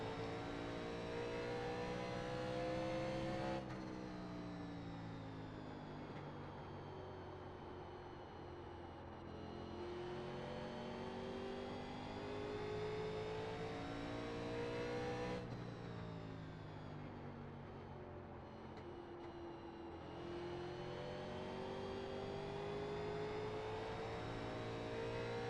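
A NASCAR Legends race car engine at Richmond in the iRacing simulator drones loudly and steadily, its pitch climbing and dropping through repeated acceleration and lifting over about 25 seconds, with no talking.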